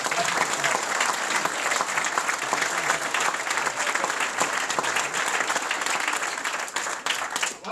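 A crowd at a club grant presentation gives sustained, dense applause for the local team, steady hand clapping filling the room for several seconds.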